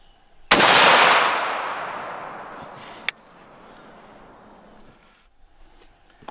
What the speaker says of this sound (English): Let's get our last shot downrange.